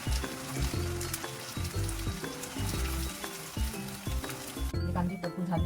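Onion paste fries in hot oil with a bay leaf over medium-high flame for a spicy fish masala, sizzling steadily and loudly throughout while a spoon stirs it in a repeating rhythm of scrapes and clinks.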